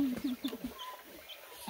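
Chickens clucking in a family outdoor setting, a run of short repeated clucks and calls heard fairly close but quiet, over a faint background with some indistinct voices.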